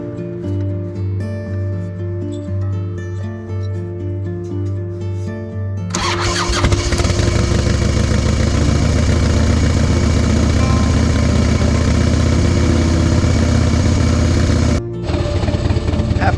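Harley-Davidson Servi Car replica engine cranking over from cold, catching after about six seconds and running at a loud, steady idle, with a brief dip before it settles again.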